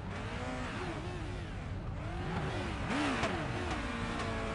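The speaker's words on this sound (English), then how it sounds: "The revs are rising at the moment." Race car engines rev on the starting grid, several cars climbing and dropping in pitch in overlapping sweeps, fairly faint and distant with a steady crowd-like wash beneath.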